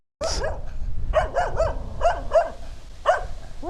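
A dog barks repeatedly outdoors, a series of sharp, close barks in an irregular rhythm with short pauses between them.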